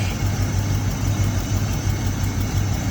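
A Porsche 997.1 with the M97 engine, running very rich, idles with a steady low throbbing rumble and even pulsing, close and constant with no revving or voices.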